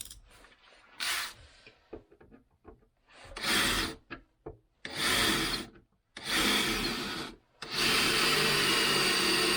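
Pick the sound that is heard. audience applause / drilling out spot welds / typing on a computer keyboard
drilling out spot welds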